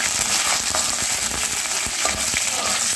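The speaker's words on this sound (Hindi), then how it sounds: "तो डालेंगे कढ़ाई में तेल, अब डालेंगे सरसों, एक ड्राई रेड चिली, अब चना दाल डालेंगे और करी पत्ता।" Mustard seeds, dry red chili, chana dal and curry leaves tempering in hot oil in a kadai, a steady loud sizzle with scattered popping crackles and stirring scrapes, close up with no talk.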